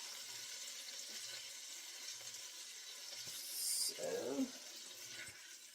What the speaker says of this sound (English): add the broth and the cider to the skillet